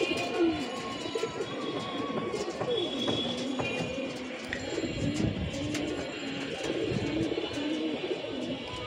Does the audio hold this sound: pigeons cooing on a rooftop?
yes